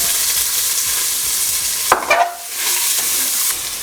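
Onions fry in tempering oil for Andhra-style gongura mutton, a steady close sizzle with a brief louder clatter of stirring midway before the frying hiss settles again.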